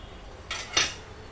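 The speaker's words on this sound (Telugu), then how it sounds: "మూత అయితే పెట్టుకుంటున్నాను చూడండి" A lid set onto a cooking pot of chicken curry, giving two short metallic clinks, the second brighter and louder, in a quiet kitchen.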